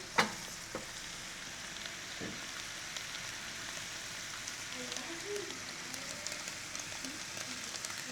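Tomatoes hit a hot pan while a Thai dish with galangal and shrimp is cooked, giving a soft, steady sizzle and crackle that carries through the whole stretch at low volume, with a faint clatter near the start.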